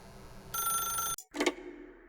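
A telephone rings in The Stanley Parable video game, one loud sustained electronic bell burst, a brief silence, then a short clattering handset sound as the ring cuts off.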